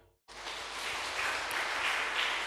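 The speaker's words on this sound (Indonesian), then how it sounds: "Mari kita memberi tepuk tangan." A church congregation at a Sunday service breaks into sustained applause, a dense, loud wash of clapping that starts abruptly after a brief silence and holds steady to the end.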